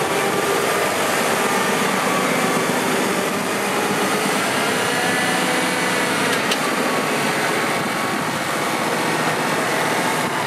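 A Mercedes-Benz Actros Edition 2 truck, one of 400 built with special trim, drives along with a steady, loud, even road and engine drone heard from inside the cab, unbroken for the whole stretch and with no talking.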